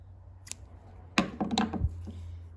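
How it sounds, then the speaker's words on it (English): Scissors snip through a piece of yarn at close range, with a faint click followed by a crisp cut and a short run of quiet slicing and rustle over a low hum. "you just cut a piece of yarn"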